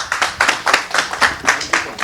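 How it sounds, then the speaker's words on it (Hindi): An audience at a Bahujan YouTubers meet claps for Sumit, roughly eight close, loud bursts of hand clapping in a quick, even rhythm. "सुमित भाई के लिए बहुत बहुत ज़ोरदार ताली बजाइए"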